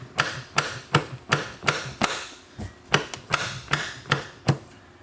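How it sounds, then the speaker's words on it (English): Repeated heavy metallic blows land in a steady rhythm, about a dozen hammer strikes driving a CV axle into a Mercedes-Benz GLA transmission, close and loud with short ringing decays. "You'll also notice a sound change when you are pounding on the CV axle"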